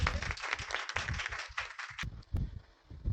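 Applause from an audience honoring the author of the world's biggest book, a dense wash of clapping across the whole stretch, dipping briefly near the middle before swelling again.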